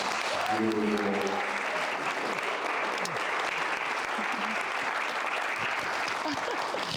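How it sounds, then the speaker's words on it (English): Audience at a Black History Month excellence celebration breaks into sustained applause, a thick, even roar of clapping for seven seconds, with a brief voice and a short musical tone near the start. "Ladies and gentlemen, please give a round of applause"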